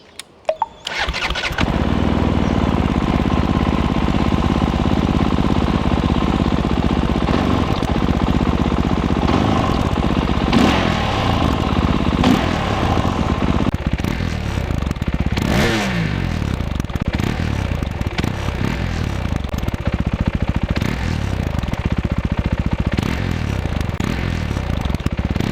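Fantic Caballero 500 single-cylinder Italian scrambler motorcycle starting up, then a loud, close, throbbing exhaust at idle with several sharp revs.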